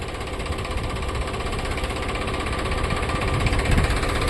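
A tractor engine runs steadily up close during wedding preparations, a loud continuous rumbling drone that grows slightly stronger toward the end, with no voices.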